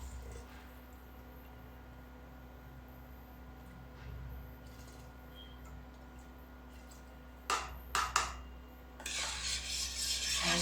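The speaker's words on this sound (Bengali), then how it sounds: "আর একটু নাড়িয়ে দিচ্ছি।" A spoon stirs soup thickened with cornflour slurry in a pot: soft, quiet swishing, then a few brief clinks against the pot and a louder stretch of scraping and stirring near the end.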